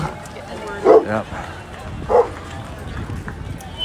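A big dog gives a couple of short, sharp barks or yips outdoors at a street protest in St. Paul, Minnesota, close by over constant crowd noise and background voices.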